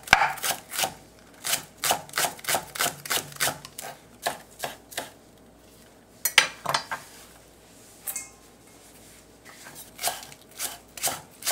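Knife chopping radish into large chunks on a cutting board for a braised mackerel and radish dish, a steady series of sharp, close chops in quick bursts with short pauses, no voices.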